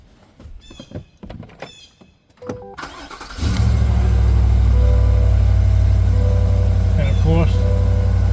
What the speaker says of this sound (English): So I'm going to start my vehicle.